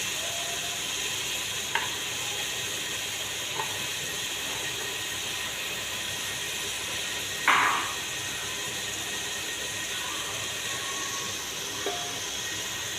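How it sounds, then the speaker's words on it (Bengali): Small-cut potatoes tipped into a hot frying pan, giving a steady close sizzling hiss throughout, with a few faint clicks and one short louder burst of spattering midway. "আলুও ছোটো ছোটো করে কেটে দিয়ে রেখেছিলাম দিয়ে দিচ্ছি"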